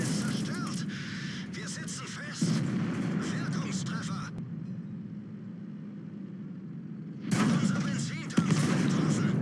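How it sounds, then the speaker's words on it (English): Artillery shells strike a heavy tank in the video game World of Tanks. Heavy booming impacts land over a rumbling engine and battle noise, with a sharp hit near the end. "Artillery got me."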